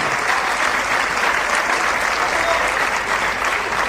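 Loud, dense applause from a large circus audience, steady and sustained throughout with no pauses.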